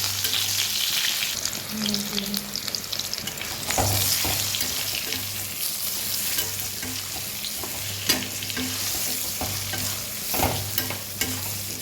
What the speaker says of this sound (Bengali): এখানে আমগুলো হালকা করে ভেজে নিয়ে